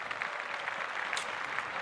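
Quiet, steady clapping sounds through a sports-and-news talk show segment after an NBA player's 70-point game. The applause is brief and soft, with small scattered peaks.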